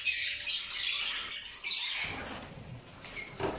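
Pigeons in a small backyard aviary give out repeated harsh squawks and calls, loud and close, with a brief break midway and a fresh burst near the end.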